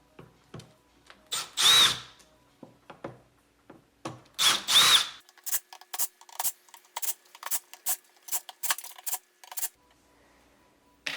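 A power drill with an extended bit, opening an Alto TS215 speaker, fires in two longer bursts followed by a rapid series of short trigger pulses, close and crisp, with near silence between.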